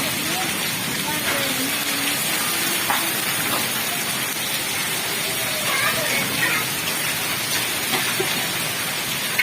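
Rain mixed with hail pours down steadily outdoors, a dense continuous hiss with scattered sharper patters of impacts at an even, fairly loud level.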